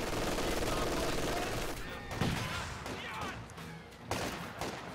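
Gunfire and explosions in the strategy video game Company of Heroes 2, a dense rattle of machine-gun bursts and booms filling the mix, then thinning into scattered shots and thuds.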